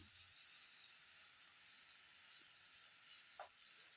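Grated boiled egg frying in a pan for egg parotta: a soft, even sizzle and hiss holds throughout, quiet and close, with a couple of faint utensil touches and no voices.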